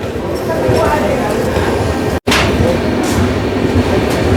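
Jan Shatabdi Express train 12080, running Hubli to Bengaluru, pulling out of Arsikere Junction, with a loud, steady rolling rumble and rattle throughout and a brief break midway; voices can be heard over it.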